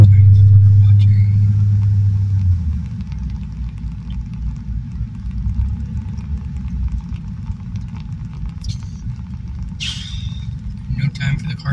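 Car engine running cold without warm-up, a steady low rumble that is loud at first with a deep hum and then settles into a constant drone, with a few sharp clicks near the end.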